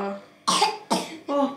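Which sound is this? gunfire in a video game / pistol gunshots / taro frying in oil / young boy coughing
young boy coughing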